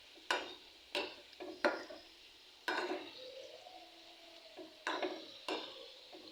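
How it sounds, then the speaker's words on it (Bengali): Sweets fry gently in a pan while being stirred, with sharp spaced scrapes and clinks of the utensil over a soft, faint sizzle. "লালচে কালার করে ভেজে নিচ্ছি সব মিষ্টিগুলো।"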